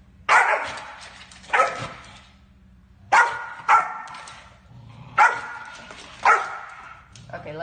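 A dog barks loudly and close by in three pairs of sharp, spaced barks, with quieter whining in between.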